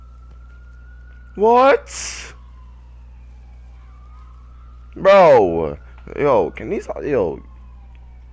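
Wailing sirens in Red Dead Redemption 2 rise and fall in short bursts, with a man's brief exclamations between them over a low steady hum.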